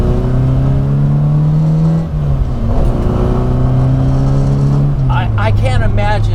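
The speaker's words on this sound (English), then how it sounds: "These short stroke motors are just, I see why John Cooper did it. I mean, they are good." A 1964 Morris Mini Cooper S with a short-stroke 1071cc engine revs loudly and close, the pitch climbing, dipping briefly, then rising and settling back down, with no clear speech over it.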